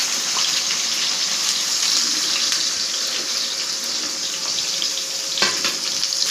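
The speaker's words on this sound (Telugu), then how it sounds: "ఆయిల్ హీట్ అవుతుంది, ఆనియన్స్ వేసుకుందాం." Onions added to hot oil for a spicy chicken fry, giving a steady, loud broadband sizzle that holds even throughout, with a brief clatter near the end and no talking.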